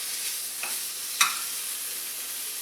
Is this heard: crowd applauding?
no